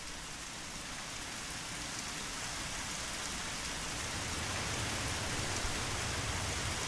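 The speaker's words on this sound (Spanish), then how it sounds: "Fijaos lo que está lloviendo" Heavy rain pours down in the sandbox video game Dig or Die, a dense, steady hiss that swells slightly louder toward the end, with no voices.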